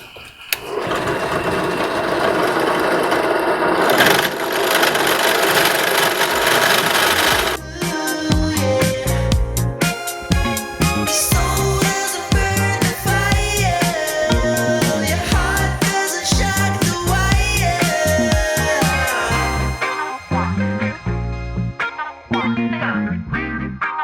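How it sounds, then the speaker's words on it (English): A power drill with a half-inch bit whines steadily, then bites into metal with a rapid chattering grind that continues for many seconds before easing off. "I'm sure that 1/2 inch is a super sharp bit that's going to punch right through there."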